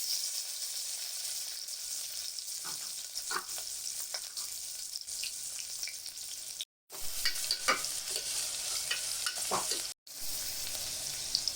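Steady sizzling of chopped onions frying in hot ghee, continuous and close, with occasional stirring scrapes.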